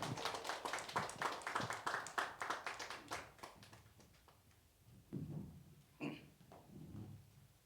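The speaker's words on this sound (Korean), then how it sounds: "우리 임 목사님 박수로 모시겠습니다" Audience clapping to welcome a pastor onto the stage at a Korean Bible-reading seminar, a scattered burst of hand claps that thins out, followed by someone speaking.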